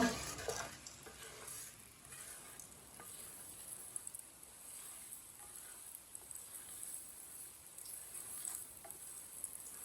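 Cumin and coriander seeds roasting in hot oil in a pan, a steady close sizzle and crackle that holds evenly throughout, with a louder burst of spitting near the start.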